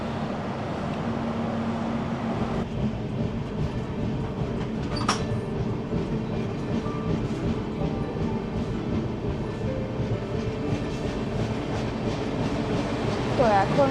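A train to Kamakhya pulling out of a station at night after a long delay, heard from inside as a steady rumbling drone with faint rhythmic clatter and a brief squeal midway, sustained throughout.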